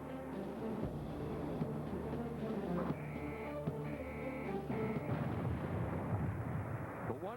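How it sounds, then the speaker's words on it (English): The battleship Missouri fires its 16-inch guns in rotation, a series of deep, heavy booms rolling one after another under a continuous low rumble, with a narrator talking over them. "fired one 16-inch round every 15 seconds, 9 guns firing in rotation"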